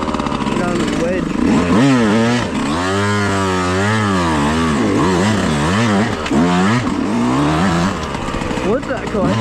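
A dirt bike engine on a trail ride, revving up and down in repeated surges with rising and falling pitch, loud and close, while a voice talks over it.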